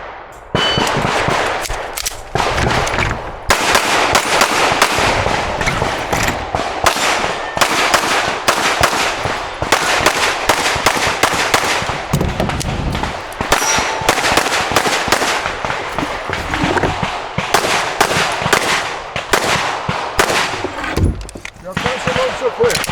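Rapid pistol fire from a Glock 47 on a USPSA match stage, with dense strings of sharp, loud shots in quick bursts across the whole run, separated by brief pauses for movement and reloads.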